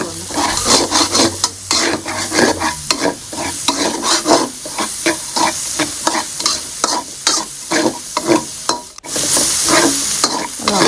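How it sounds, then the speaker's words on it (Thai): Onion being stir-fried in a pan for a Thai filled bread, with steady scraping stirs and a continuous loud sizzle from start to finish, no talking. "เราก็ใส่หอมใหญ่ลงไปผัดเลยนะคะ ผัดให้หอมเลยค่ะ"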